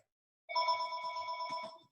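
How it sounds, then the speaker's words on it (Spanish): Telephone ringing with a short warbling electronic ring, clear and close in an otherwise quiet room, lasting just over a second. "siempre suena el teléfono cuando estamos conectados"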